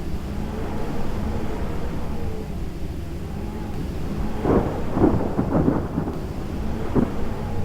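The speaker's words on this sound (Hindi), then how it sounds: "बारिश शुरू हो चुकी है। आप आवाज़ से सुन सकते हैं कि कितनी ज़्यादा हवा चल रही होगी।" Heavy rain roars steadily with gusting strong wind at Kedarnath, Uttarakhand, and a few sharp crackling bursts cut through partway; no voices are heard.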